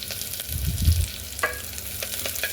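A cashew and tomato pulao mixture fries in a pan with a soft, continuous sizzle, broken by a brief scraping stir near the start, fairly quiet and close.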